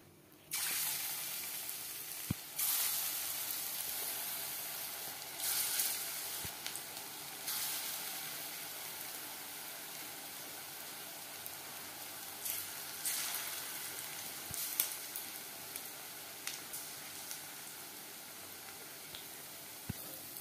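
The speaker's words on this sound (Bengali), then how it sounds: "ভাজবো মিডিয়াম ফ্লেমে।" Chicken chops fry in hot refined oil over a medium flame, giving a steady close sizzle and crackle throughout with occasional louder pops and light utensil clinks.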